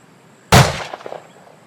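A single sharp gunshot cracks out loud and close, its report decaying over a fraction of a second with a short ringing tail, alone with no talk.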